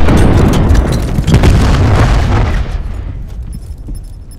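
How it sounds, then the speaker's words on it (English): A grenade goes off in Call of Duty: Black Ops 4, a loud, heavy blast filling the opening seconds with deep rumble, then fading into a decaying tail. "Grenade."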